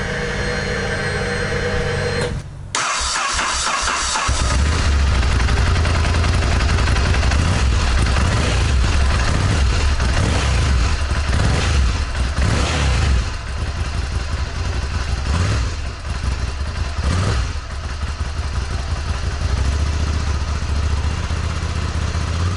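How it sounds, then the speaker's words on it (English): A Ducati Scrambler motorcycle with stock exhaust idles close by with a throaty, uneven burble, rising now and then into short revs, with no talking. "I'm holding the other camera so that you can hear a clip of the stock exhaust"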